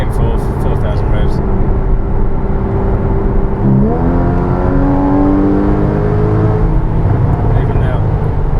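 Porsche Cayman 981 GTS engine held at about 4000 rpm with the PDK gearbox, a loud steady drone filling the cabin, its pitch rising sharply partway through and then holding, with people talking over it.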